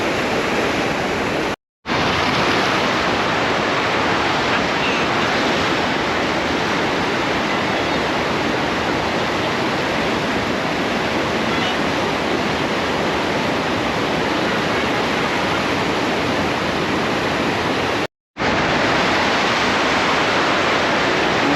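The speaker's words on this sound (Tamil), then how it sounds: "அவ்வளோ தண்ணி வருது." Loud, steady roar of river water pouring over a check dam on the Kosasthalaiyar river, a dense continuous rush filling the whole stretch with two very brief dropouts.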